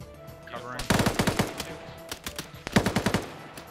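Rapid automatic gunfire in a military shooter game breaks out in two clustered bursts of sharp repeated shots, loud and close, over a low background hum.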